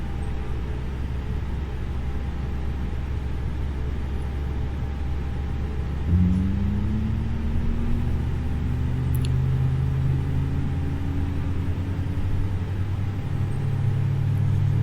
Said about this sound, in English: Yes, so let's now start engine 1.